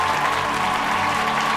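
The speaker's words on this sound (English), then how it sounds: "Hagrid's back and everyone's cheering for him" Students in a Harry Potter film scene applaud together for Hagrid: brief dense clapping from a crowd, loud and even throughout.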